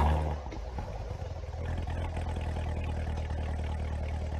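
Engine of a car in the online video game Drift Racing Online, a steady mid-pitched motor drone with some clatter, idling and revving continuously at fairly low level with no speech.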